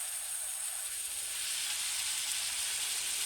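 Garlic added to a hot pan of vegetable paella, giving a steady, even sizzling hiss that swells slightly and holds without pause.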